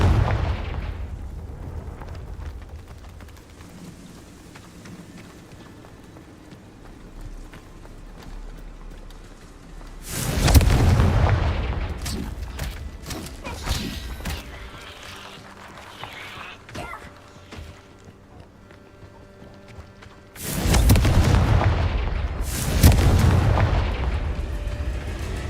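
Two heavy blasts from the Confringo spell in modded Hogwarts Legacy, about ten seconds apart, each a loud booming burst followed by crackling debris, after a long stretch of low ambient game noise.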